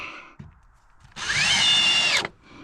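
A power drill drives a screw into a pressure washer trailer base, giving one steady, loud high whir of about a second that stops sharply, with quiet handling noises before and after.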